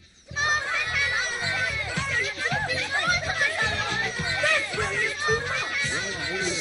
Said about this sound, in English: I can hear the listeners out there cheering